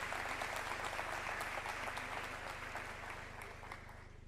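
An audience at an educational conference's opening plenary claps steadily, a dense wash of hand claps that gradually fades over a few seconds, heard from a moderate distance without speech over it.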